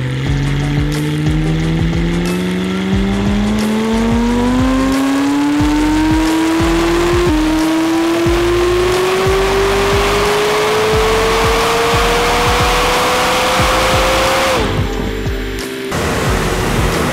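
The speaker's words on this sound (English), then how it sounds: "now let's get the dyno going" McLaren 600LT with a Kline exhaust on a dyno, a loud, close engine climbing steadily through the gears in one long sustained pull, with short breaks at the shifts before easing off near the end.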